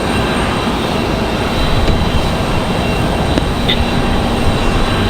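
A Boeing 737-700 arriving from Montego Bay at Raleigh-Durham International Airport, heard as a steady, loud, broadband jet roar that holds constant throughout without breaks.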